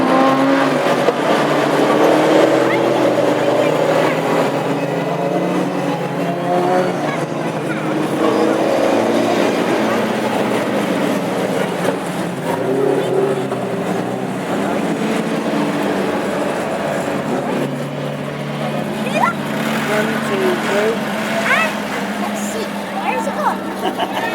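Classic hot rod race cars roar past at close range in a steady, loud stream of engine noise, with a commentator's voice running over the top throughout.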